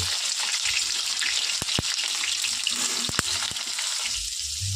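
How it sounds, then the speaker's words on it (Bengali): Steady, loud sizzling of pointed gourd frying in oil, with a few sharp pops and metallic taps of a spatula cutting through the hiss. "পটলগুলো আমি লাল লাল করে ভেজে নেব"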